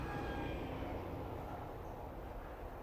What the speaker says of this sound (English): there's a train going past there